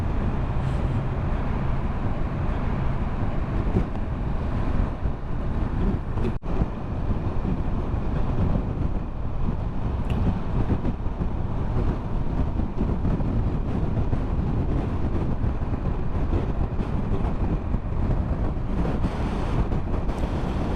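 Steady wind buffets the microphone on an open ship deck during a motorcycle tour of Norway, a continuous broadband rumble with low roar and constant gusting, loud and unbroken throughout, with no talking.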